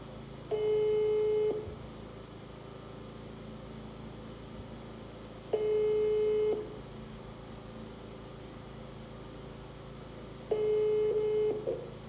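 A telephone call to a regional official goes unanswered; a steady tone sounds in three evenly spaced bursts, each about a second long and roughly five seconds apart, over a low background hum.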